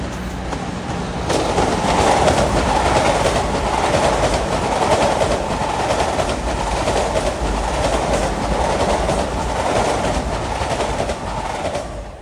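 A westbound Long Island Rail Road train from Ronkonkoma to Grand Central rolls loudly past Queens Village by the old Queens Tower, a steady close rumble with wheel clatter sustained throughout.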